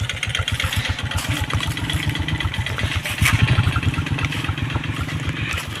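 A motorcycle engine runs at a steady idle outdoors, a close, loud, rhythmic low putter with even regular pulses, briefly swelling louder midway, with no talking.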